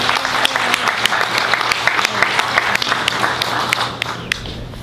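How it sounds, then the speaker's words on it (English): Audience at a technical college book signing gives a big round of applause, dense clapping with several sharp, close individual claps standing out, fading slightly toward the end. "we want to give a big round of applause and welcome to his mom and his dad, Renee and Anthony."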